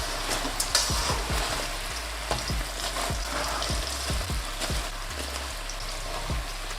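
Frozen steak-cut chips deep frying in hot oil, a steady dense crackle and sizzle with soft, regular low thumps from stirring, close and continuous with no voices.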